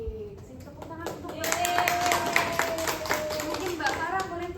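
Classroom clapping as students applaud during an Indonesian lesson, a burst of many hands patting quickly and fairly close, rising in the middle and thinning toward the end, with a voice talking over it.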